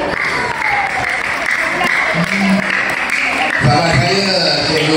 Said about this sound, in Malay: Kuat dah sikit tepuk.